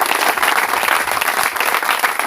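Dense, steady applause from an audience at a French-language pastors' conference session, loud and close, filling the whole moment with no talk over it.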